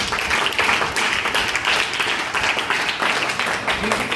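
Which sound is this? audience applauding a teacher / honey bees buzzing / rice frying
audience applauding a teacher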